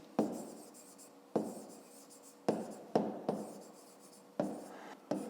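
A pen writes by hand in a math exercise book, giving close, quiet scratchy strokes in about six separate bursts, each one starting sharply and then trailing off, with no voices.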